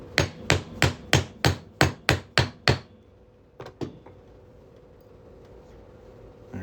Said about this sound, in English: we're just going to hammer this 1/2-inch punch right on through here